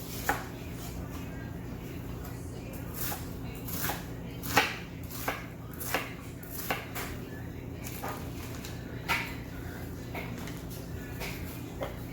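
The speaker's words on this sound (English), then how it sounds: "Now get into cutting my onion" An onion is cut with a knife on a board, a steady series of soft, crisp chops spaced about half a second apart, close but quiet over a low steady room hum.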